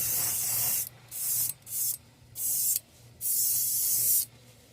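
An airbrush sprays blue paint onto a handmade fishing bait in several hissing bursts of varying length, separated by short pauses, close and fairly loud.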